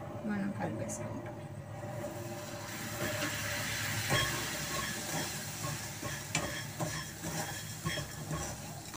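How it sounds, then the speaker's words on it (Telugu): Fennel seeds are stirred with sugar syrup in a pan, giving a continuous soft rustling, scraping sound with faint sizzle and occasional clicks of the spoon, close and steady. "కొంచెం వేస్తూ కలుపుతూ ఉండాలి"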